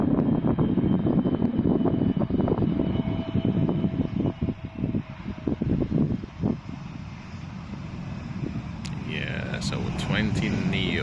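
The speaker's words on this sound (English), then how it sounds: "A320 Neo." Airbus A320neo airliner passing near Amsterdam's Polderbaan runway, a steady loud engine roar and rush of air that fades toward the end as a voice talks over it.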